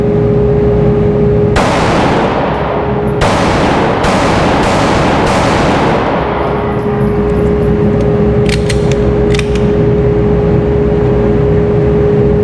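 Glock pistol gunshots at an outdoor range, fired loud and close in a quick string of about five sharp reports over four seconds, each with a ringing tail, then quieter clinks and a steady background hum.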